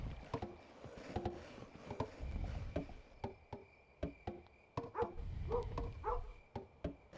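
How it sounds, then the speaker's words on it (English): Barking from a dog in the pixel-art strategy game Kingdom New Lands, a series of short barks and yips at moderate distance, repeating irregularly over quiet in-game ambience. "Why are you barking?"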